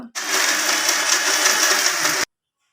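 A mixer grinder whirs loudly and steadily for about two seconds, grinding dry masala for mackerel (bangude) fish, then cuts off abruptly into silence.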